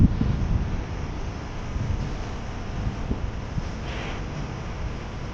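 Wind rumbles and buffets the microphone on a dark, drizzly night near Crescent Bridge, a steady low roar with gusts and no voices.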